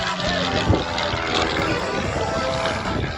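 Long-EZ canard aircraft flown by Kyle Fowler during an aerobatic display at the Battle Creek airshow, a steady broadband propeller and engine roar held at even loudness throughout, with faint background talk.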